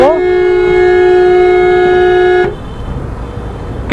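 A car horn sounds one long, loud, steady blast for about two and a half seconds, then cuts off to quiet road background before a brief new honk starts at the end.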